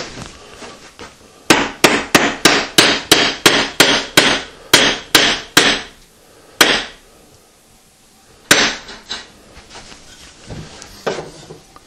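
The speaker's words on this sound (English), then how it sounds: "I have to actually knock that one through" Sharp, evenly spaced hammer blows knocking a tight-fitting wooden dowel through a hole, about a dozen in a steady run, then a couple more isolated strikes after a pause.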